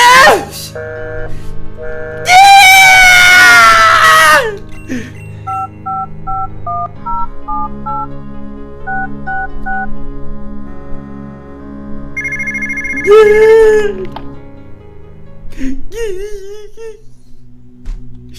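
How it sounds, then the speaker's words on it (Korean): Phone dialing tones and ringing from the Pokégear in the Pokémon Dusk video game, sounding as short stepped electronic beeps mid-clip, with loud vocal outbursts before and after. "공박사한테 전화를 하라고요? 전화기가 어디 있는데 전화를 해야 된다고"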